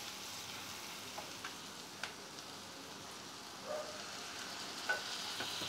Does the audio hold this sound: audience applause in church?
no